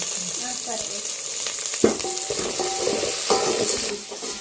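Curry leaves and chopped coriander sizzle in hot oil in a pan, with steady crackling broken by sharp scrapes and clinks of a spoon stirring.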